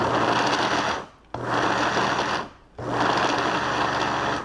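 A mixer grinder whirs loudly and steadily while spinning mango puttu mix, cutting out twice in pulses and restarting with a sharp jump each time.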